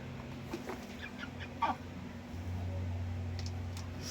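Short clucks from a chicken come in scattered bursts, with one louder call near the middle, over a steady low hum and some faint background noise.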